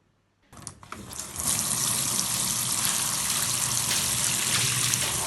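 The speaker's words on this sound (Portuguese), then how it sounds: "Larga a torneira, já não avisou." A tap turned on in a home, starting with a sudden gush and then running as a steady, close, full splash of water into a basin, with no talking.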